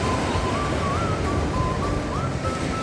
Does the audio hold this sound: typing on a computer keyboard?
no